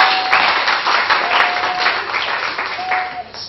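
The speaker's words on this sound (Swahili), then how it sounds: "Tumeambiwa na mchungaji kupigia makofi maana amefanya vizuri" A church congregation at an Apostolic Faith revival meeting in Kitengela breaks into loud, sustained applause, dense clapping filling the room for the whole stretch.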